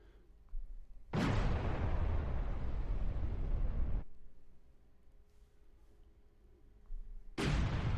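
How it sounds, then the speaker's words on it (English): An explosion sound effect from the LumaFusion library: a sudden loud roaring blast that rumbles for about three seconds and fades out, then a second blast begins after a quiet gap. "We've go to E for explosions. Let's have a listen to some of them."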